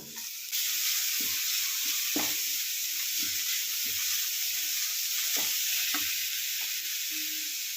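Chopped carrot stir-fried with onion and browning urad dal in a pan for upma, a steady close sizzle broken by sharp spatula scrapes and knocks against the pan, no talking.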